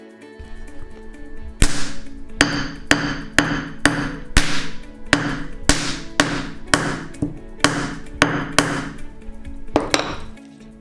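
A hammer strikes a large toy cap laid on a polymer banknote over a brick, about a dozen sharp, loud cracking bangs in an uneven series, each ringing briefly.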